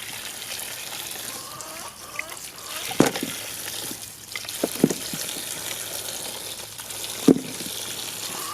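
Water runs steadily while mud is washed off freshly harvested beets, a continuous close hiss and trickle broken by a few sharp splashes and knocks.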